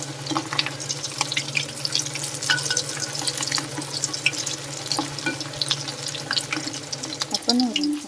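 Blooming onion dropped into hot oil, a steady bubbling sizzle of frying throughout, with faint clinks and a brief chirp near the end and a voice speaking softly at times.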